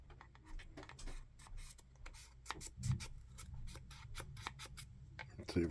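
Pen scratching and dragging on a surface as someone tries to make it write, a series of short rapid scratchy strokes in irregular bursts, close and quiet; no talk.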